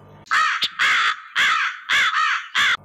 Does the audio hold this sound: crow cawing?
yes